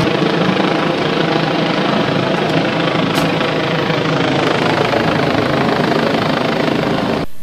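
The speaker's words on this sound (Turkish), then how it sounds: "operasyona polis helikopteri ise havadan destek verdi" A police helicopter supports a dawn drug raid by special operations teams, its rotor and engine roaring loud and steady overhead throughout, with no talk.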